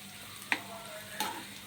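Carrot curry with ginger, garlic and garlic chili powder being mixed in a pan: two brief, faint clacks of a spoon against the pan over a quiet, low background, with no talking.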